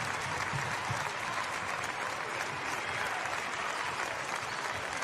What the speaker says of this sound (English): The crowd back in it.